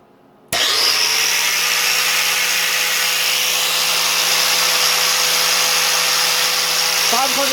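An angle grinder runs on power from an MPP LV6548 inverter fed by a SOK 5kWh server battery, starting abruptly and then whining loud and steady at a constant pitch, with a small shift near the end.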